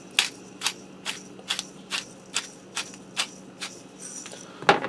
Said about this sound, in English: I'm going to go ahead and stir this all together and set it aside just for now.